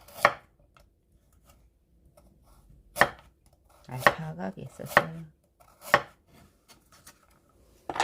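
Kitchen knife slicing carrot into flower-shaped pieces on a cutting board: sparse, crisp single chops spaced a second or so apart, close and fairly quiet, with brief murmured speech in between.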